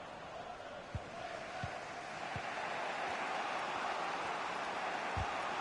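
Stadium crowd in the FIFA 23 football video game gives a steady, dense roar of cheering and noise, with a few dull thumps scattered through it.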